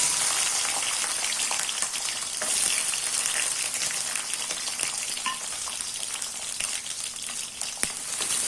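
Shallots and garlic fry in hot oil with a steady, close crackling sizzle, sharp pops scattered throughout and no voices.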